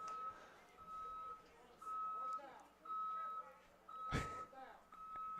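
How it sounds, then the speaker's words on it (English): A departing bus gives steady, repeating reversing beeps at a baseball field, heard at a distance under crowd ambience with a brief louder burst near the end. "it's the Murfreesboro bus leaving"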